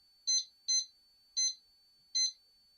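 A digital kitchen timer sounds four sharp, high electronic beeps after its countdown ends, given in quick pairs and then spaced out, close and clear over silence.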